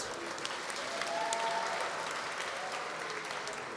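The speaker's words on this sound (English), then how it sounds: "Round of applause there for Mohammed." An audience at a live quiz event in a shopping mall applauds steadily with dense, even clapping, heard from a distance at moderate volume, with no talking over it.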